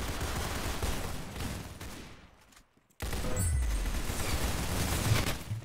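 Dense rapid gunfire in the Roblox shooter Arsenal, a continuous loud fusillade that drops away briefly to near silence before resuming just as heavily.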